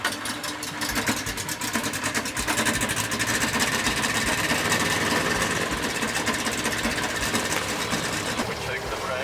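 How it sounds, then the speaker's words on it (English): A small propeller airplane engine starts up close by and settles into a steady, rapid, rattling idle that runs without a break. "I start the engine."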